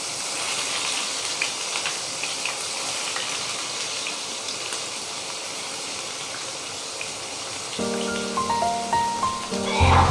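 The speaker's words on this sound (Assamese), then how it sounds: "আৰু সৰু সৰুকৈ কাটি থোৱা পিঁয়াজখিনি দি দিম এতিয়া।" Finely chopped onions hit a pan with ginger-garlic paste and fry in a steady, loud sizzling hiss, followed by a brief clatter of utensils near the end.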